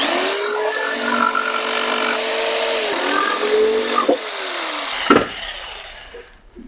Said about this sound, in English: finish it up with the jigsaw.